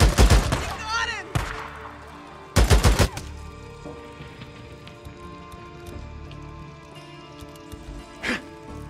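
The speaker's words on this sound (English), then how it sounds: "Open fire!" Gunfire in the video game Days Gone: two loud bursts of rapid shots open the stretch, followed by quieter game sounds and a lone later shot, with a voice talking over the action.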